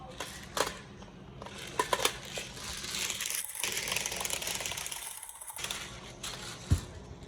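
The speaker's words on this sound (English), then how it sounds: "And I'm just going to fill this mag up." Tokyo Marui HK416D airsoft magazine being loaded with BBs, a run of close mechanical clicks, ratcheting and rattling with a few sharper knocks, no talking.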